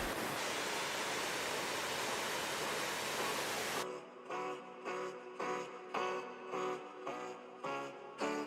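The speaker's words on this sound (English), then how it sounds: "The waterfalls begin just after the Ölfusá River makes a perpendicular turn and then cascades down a 3-step staircase into a canyon" Glacier-fed waterfall on the Ölfusá River cascading down a three-step staircase into a deep canyon, a loud steady rushing roar for several seconds before it cuts off, followed by quieter rhythmic music.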